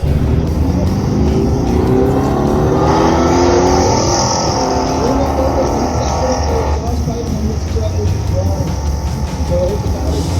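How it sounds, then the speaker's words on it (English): A big V8 hydrogen-fuelled truck engine runs loud and close, its deep rumble swelling as it revs steadily with a rough, throaty drone throughout. "This truck sounds like a V8 because it is."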